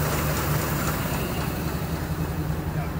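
A 1925 Rolls-Royce Springfield Silver Ghost engine idling, a loud, steady, smooth rumble that holds even and unbroken throughout at close range.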